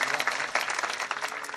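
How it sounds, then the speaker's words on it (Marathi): Loud, dense applause from a kirtan audience honouring the maharaj, sustained clapping filling the whole moment without a break. "महाराजांसाठी एकदा जोरदार टाळ्या सर्वांनी वाजवा"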